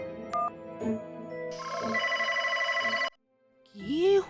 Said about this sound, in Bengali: ফোন তো বেজে যাচ্ছে, ফোনটা ধরছে না কেন?